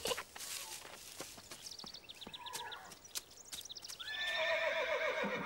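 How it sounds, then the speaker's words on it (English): A horse neighs in a cartoon barn scene, a loud shrill whinny rising near the end after quieter snorts and hoof clops. "The sound of the horse"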